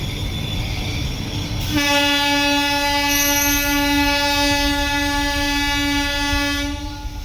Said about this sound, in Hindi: गाड़ी संख्या 12495 का हॉर्न बज गया है।